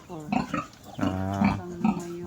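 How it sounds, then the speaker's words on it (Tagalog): A sow grunts in a backyard pig pen, several short close grunts in a rhythmic series, with voices talking nearby. "Tamal, ilan yung inahing baboy mo dyan?"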